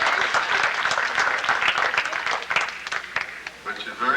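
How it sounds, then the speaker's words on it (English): People at a family reunion gathering clap together in a dense, lively burst, with voices mixed in among the applause. "well, you can clap for her,"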